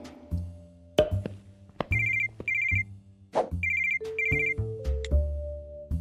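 A phone ringtone for an incoming call plays a bright, repeating electronic melody of short chiming notes over a bass line, clear and alone with no talking.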